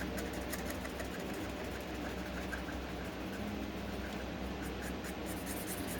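Ohuhu bullet-nib markers scratch steadily across paper during coloring, a continuous close, quiet scraping texture over a constant low hum with no talk.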